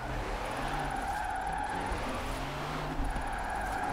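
A semi truck drifting in Forza Horizon 4, driven with a steering wheel: a steady, loud engine drone with tyre squeal, plus faint high whining tones, continuous with no talk.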